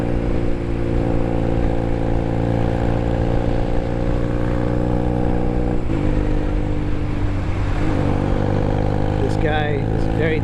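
Honda Rebel 250 motorcycle cruising on a road, its engine a steady close drone under wind, while a car comes up and passes alongside near the end.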